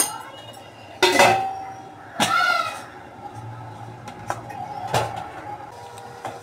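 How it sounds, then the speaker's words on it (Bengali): A cooking pot of mutton is covered and a water pot is set on its lid, giving several sharp metallic clanks and clatters spaced a second or two apart, close by, with quieter handling noise in between. "এবার আমি মাংসটাকে আবার ঢেকে দিচ্ছি, ওপরে জলের হাঁড়ি বসিয়ে।"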